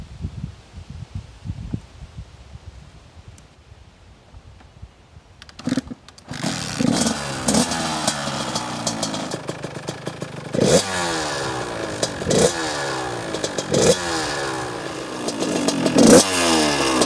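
A Kawasaki KX85 dirt bike sits quiet, then its engine starts about midway and runs with crisp, sharp revving blips repeating several times, close and loud.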